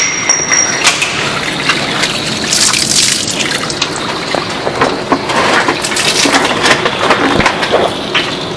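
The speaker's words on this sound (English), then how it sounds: "it's just going to pop off and then just probably be a stream" Water gushes from a pipe fitting during a home water softener installation, a continuous splashing stream with scattered clatters and drips, fairly loud and close.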